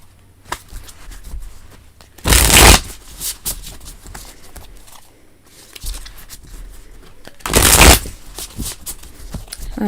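Tarot cards being shuffled produce two loud, close riffling bursts about five seconds apart, each lasting under a second, with softer card taps and handling clicks between them and no talking.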